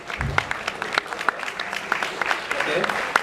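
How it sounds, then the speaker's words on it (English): Scattered applause from an audience at an event honouring student volunteers, with sharp individual claps standing out through the crowd murmur and some talk. "I would like to have a huge round of applause for Deepak and Anubhav."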